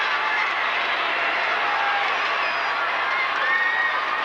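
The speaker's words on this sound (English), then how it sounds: "the Eau Claire North crowd is getting noisy, trying to get their team back in it" A high school boys basketball crowd in a gym roars steadily, a dense, bright wash of cheering and shouting that holds at constant loudness throughout, with no clear individual voices.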